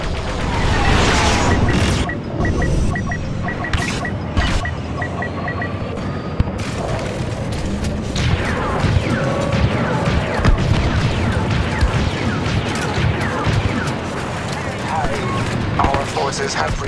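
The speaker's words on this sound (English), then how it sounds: "Ion blast penetrating the transport." Ion blasts pounding a transport in a Star Wars battle game, repeated crashing booms and blaster-like bursts over a busy backdrop of combat noise, loud and continuous, with game radio voices speaking.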